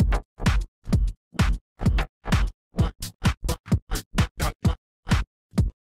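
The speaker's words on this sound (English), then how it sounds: "So now, obviously, you can cut into this track like this." Choppy DJ fader cuts slicing an electronic track into about twenty short, punchy bursts separated by silence, loud and alone with no talk.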